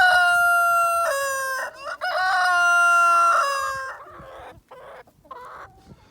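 A rooster crowing loudly and close by, two long crows in quick succession, followed by softer clucking.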